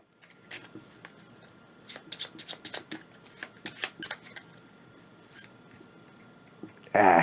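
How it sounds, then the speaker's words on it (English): Cards for the board game Vinhos shuffled by hand on a table, a run of quick riffling flutters and soft slaps in bursts, close and clear, ending in a loud sharp rustle. "So we'll shuffle those up."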